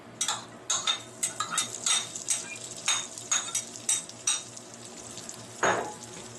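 Vegetables and bacon return to a hot pan, with close, bright clinks of a utensil against the pan in a quick uneven series, a soft sizzle beneath and one louder scrape near the end.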